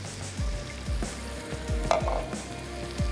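Ground masala of poppy seeds, fennel, ajwain, cumin and mustard seeds sizzles steadily while it is roasted on a tawa for egg masala, with a spatula scraping through it in repeated strokes.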